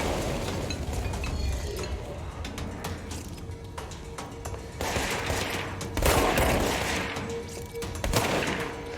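Shotgun fire in the video game Control comes in repeated bursts of sharp blasts and clinks, layered over dense combat noise and growing louder in the later part.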